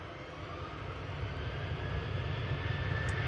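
KLM Boeing 737 airliner taking off at Manchester Airport, a steady low engine rumble that swells gradually over a few seconds, heard alone without talk.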